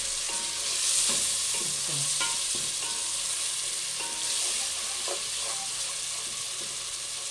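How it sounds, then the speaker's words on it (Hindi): Tomato, ginger and green chili paste masala frying and being stirred in a pan, a steady close sizzle with scraping spoon strokes throughout, no talking. "ये इसको बहुत ही अच्छी तरह से हमने भूनना है ताकि ये टमाटर वगैरह जो है ये अच्छी तरह से गल जाए।"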